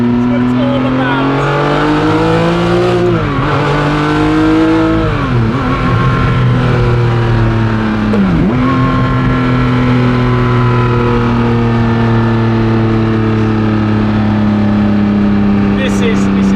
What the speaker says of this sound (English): I'm not quite sure how much the camera can pick up of those bangs and cracks you get out of the F40.